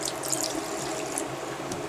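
Water runs from a tap at low pressure in a home interior, a thin, steady hissing flow with light splashing, close by and continuous, with no voices.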